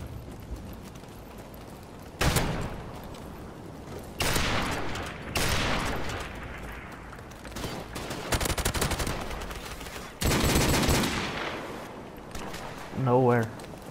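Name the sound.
gunfire shots in a video game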